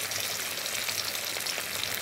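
Hilsa fish pieces rubbed with salt and turmeric fry in hot oil in a wok, giving a steady, close, even crackling sizzle with no voices.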